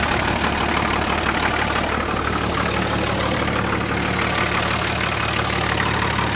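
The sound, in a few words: Nissan turbo diesel engine idling in 1980 IH Scout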